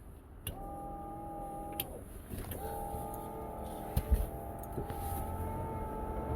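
Wiper motor on a 2007 Thunderjet boat running with no blade fitted: a steady, faint electric whine that sweeps back and forth in repeated strokes, with small clicks and knocks around it.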